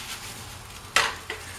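A stack of breakfast food sizzles quietly in a pan over medium heat, with a soft steady hiss broken by two sharper scrape or stir bursts near the end.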